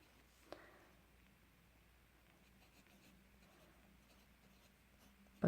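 A bocote wood fountain pen with a medium nib scratches softly across paper, a faint close-up writing sound in a quiet room with a light tap near the start and a louder knock at the end.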